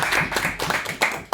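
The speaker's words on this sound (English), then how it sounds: "Let's have a round of applause for her." An audience at a Toastmasters-style table topics meeting gives a short burst of clapping, with dense, fairly close hand claps that swell and dip briefly.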